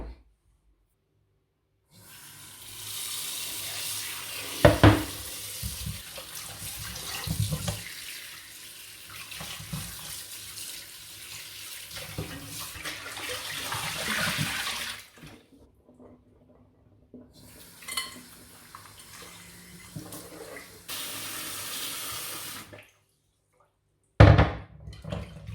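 Tap water runs steadily into a kitchen sink while peeled cassava is rinsed and rubbed clean for fufu, with a few brief splashes and clunks. The flow stops for moments and then resumes, and no one speaks.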